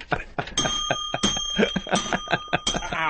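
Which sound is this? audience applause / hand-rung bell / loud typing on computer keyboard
hand-rung bell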